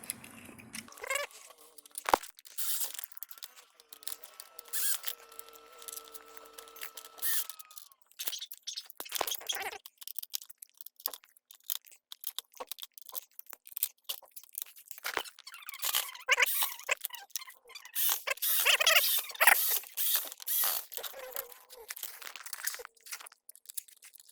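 Small screws are driven back into a Samsung Flexwash washing machine during a repair, with scattered close clicks, scrapes and squeaky turning, some brief tool rattles and faint handling noise.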